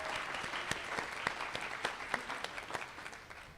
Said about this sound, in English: we're all clapping for you from afar